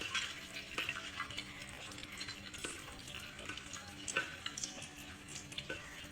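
Fish cakes fry in a pan, a steady soft crackle and sizzle with faint scattered stirring clicks, close but quiet throughout.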